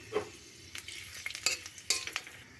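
Dry red chilies and two bay leaves sputter and sizzle in hot oil in a kadai on a gas stove, with scattered crackles and a spoon stirring against the pan, close and fairly quiet.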